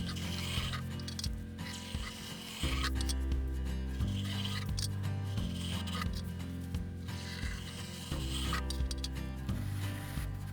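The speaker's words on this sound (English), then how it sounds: "I'm going to make a few designs in it with the notched end of the trowel" Notched trowel scraping and dragging through joint compound, continuous raspy rubbing strokes with rhythmic textured grating, close and moderately loud.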